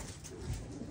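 A single low, soft pigeon coo, brief and fairly close, against faint background noise.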